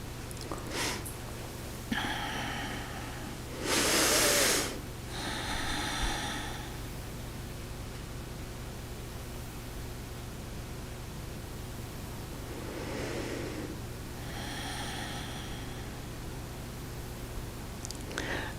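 Slow, soft breaths during a seated breathing meditation, faint and close over a steady hiss, with a longer deep inhale-exhale and a few quieter breaths spaced well apart.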